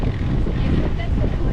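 Strong wind on Mykonos buffets the microphone in a steady, loud roar with no break.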